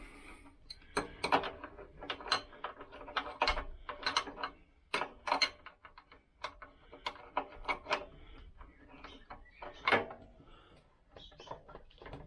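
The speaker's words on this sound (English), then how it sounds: "What I'm going to be using again is the open-ended spanner and a socket, and then we'll try and undo this one." A socket ratchet and open-ended spanner work at a bolt on a Lambretta scooter, giving close, sharp ratcheting clicks in uneven bursts with short pauses between strokes.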